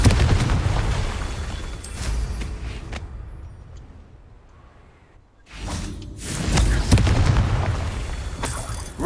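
Confringo spell blasts in the Hogwarts Legacy video game, a loud booming explosion with a rushing tail, a quieter lull, then a second burst of booming noise.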